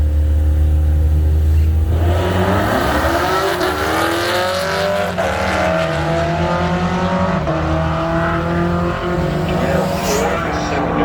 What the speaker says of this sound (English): Camaro versus Mustang battle.